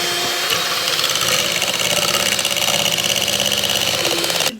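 An electric hand mixer whips three egg whites for tiramisu, a steady loud motor whine with beater rattle that runs continuously before cutting off at the end.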